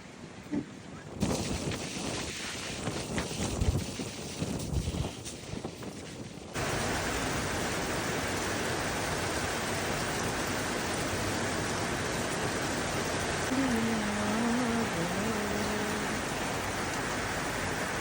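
Steady rain pouring down with wind noise buffeting the microphone, a dense constant roar; a faint distant tone briefly rises toward the end.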